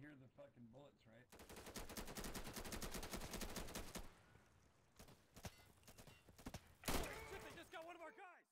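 Bursts of automatic gunfire and single shots in the video game Insurgency, loud and dense for several seconds, then sparser cracks and a final heavy volley, with someone talking in between.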